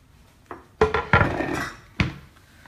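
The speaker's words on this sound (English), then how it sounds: "I'm just going to grab a chopping board." A chopping board is grabbed and set down in a home kitchen with a handful of sharp, close knocks and clatters spaced over a couple of seconds.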